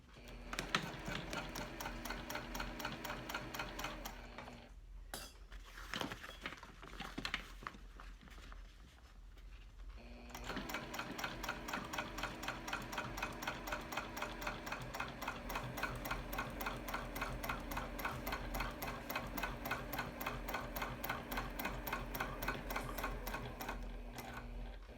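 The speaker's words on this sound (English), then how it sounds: "I'm just going to stitch 1/8 from the line, the top line of this curved piece." A sewing machine runs in steady rapid stitching bursts while a pocket is sewn onto a curved backpack panel. It pauses briefly near the middle, then resumes a long, even run of close, moderately loud stitching.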